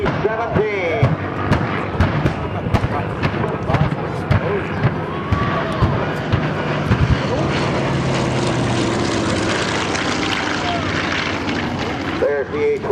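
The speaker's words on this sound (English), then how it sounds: "There's the A-26 Invader, flown by David Huffman today." A WWII-era A-26 Invader bomber flies past at an airshow, its piston engines giving a broad, sustained roar over crowd noise and scattered sharp pops, loud and fairly close throughout.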